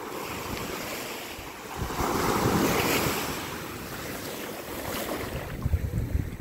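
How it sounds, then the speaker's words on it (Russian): Ocean surf rolls onto a beach in steady, broad washes, swelling louder in the middle and again near the end, with wind buffeting the microphone throughout and no voices. "Поснимаю океан для людей, кто хочет просто посмотреть на океан."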